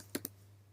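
Two quick, faint clicks of computer keyboard keys while typing code, close together and alone over a steady low hum.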